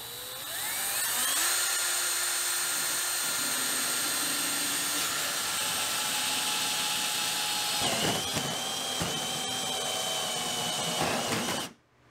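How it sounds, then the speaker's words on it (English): A power drill bores a pilot hole through an indoor wall for a mini split unit, giving a loud, continuous whine that shifts in pitch and then cuts off abruptly at the end. "let me get that drill bit to start pilot hole"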